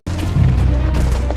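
A loud, sustained explosion blast from a Vietnam War documentary about the Tet Offensive, with a dense, rumbling roar that fills the whole moment and holds steady without pause.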